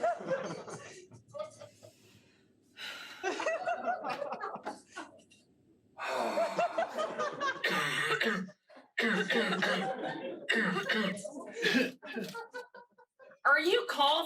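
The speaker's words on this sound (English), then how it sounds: "Are you coughing?" Someone coughs in several separate bursts, with breathy sighs and throat-clearing between them, close and fairly loud, with some voices in the pauses.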